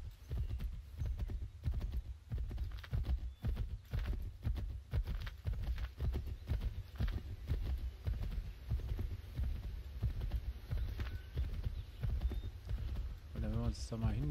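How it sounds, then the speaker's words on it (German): Galloping hoofbeats of a horse ridden through the world of Assassin's Creed 3, a steady rhythmic clip-clop drumming throughout beneath a low game rumble, with a voice talking over it. "So, wir werden jetzt mal dahin reiten."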